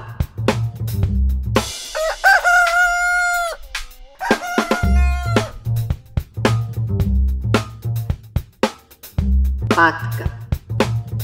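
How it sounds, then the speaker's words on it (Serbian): A rooster gives one long, loud crow up close, followed by clucking bursts before and after. "Petla."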